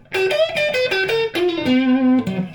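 Electric guitar played through a modded Masco ME-27 amp, a short melodic phrase of sustained, slightly distorted notes with a chorus-like shimmer, loud and close with no talking.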